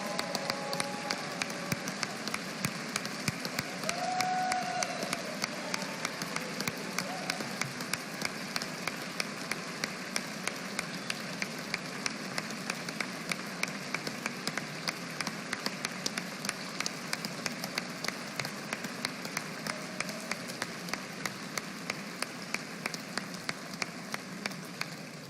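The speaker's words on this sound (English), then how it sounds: "Let's give all these kids a round of applause." An audience at a State of the State Address claps for a group of children, a sustained wash of dense applause with steady, crackling hand claps throughout.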